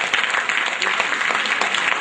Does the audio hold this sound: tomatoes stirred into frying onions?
no